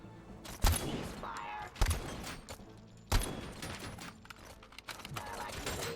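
Gunfire from a weak handgun in the video game Robocop Rogue City, three sharp shots spaced over a second apart, each followed by mechanical clatter, with someone talking over the game audio.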